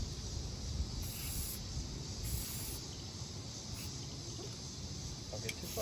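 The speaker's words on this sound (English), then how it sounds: "You spray out here, and then go across and let go." A spray paint can hisses steadily onto an old Vulcan 20 lawn mower, the continuous spray broken by short pauses, with faint talk in the background.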